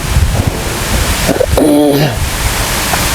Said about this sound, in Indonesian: Ini juga anginnya di sini kencang banget ya.